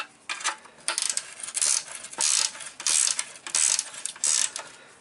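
Ratcheting wrench tightening bolts on a car radiator, loud close metallic clicking bursts repeating in short rhythmic strokes with brief pauses between.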